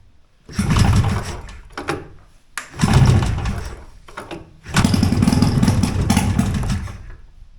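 A homebuilt Hurricane hovercraft's engine, with both carburetors primed, cranks in several short loud bursts, sputters briefly, then catches and runs roughly for a few seconds close by.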